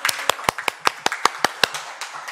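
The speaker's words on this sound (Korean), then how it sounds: "축하의 박수 다시 한번 더 부탁드리겠습니다." Sparse clapping in a council committee session honoring a retiring official, a dozen or so sharp, distinct claps from a few hands in an irregular rhythm, close and clear with no talk.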